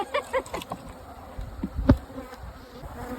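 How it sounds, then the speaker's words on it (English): Honeybee buzzing around at close range, a faint wavering drone with short louder passes as it moves. "But then I noticed there was one in the very back buzzing around."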